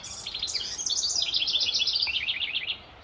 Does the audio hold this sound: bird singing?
yes